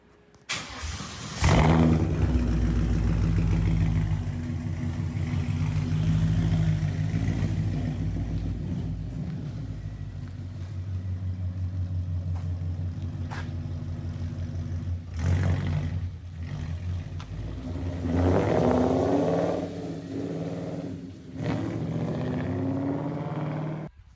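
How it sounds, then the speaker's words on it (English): A Ford Mustang S550 fitted with a brand-new 5.0 crate engine cranks and fires at about two seconds, then settles into a steady, loud idle with a few blips and dips, and no voices. "Mustang is up and running."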